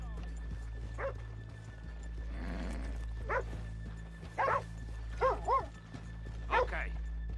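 Horses in the video game Red Dead Redemption 2: hooves clopping and a few short barks or whinnies over a steady low hum, with brief talking in between.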